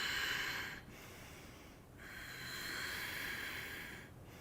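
Slow, breathy exhalations during a yoga core exercise, airy hissing breaths close to the ear, three soft outward pushes separated by short gaps.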